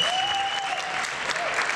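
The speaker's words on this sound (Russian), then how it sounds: "Аплодисменты." A concert audience in Donetsk, Ukraine applauds, a brief, even, continuous roar of clapping with a faint sustained tone running underneath.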